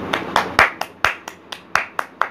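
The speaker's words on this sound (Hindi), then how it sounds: "इनके लिए भी ताली हो जाए" A few hands clap for a guest on a home cricket channel, about ten sharp, uneven claps close by, with no talking over them.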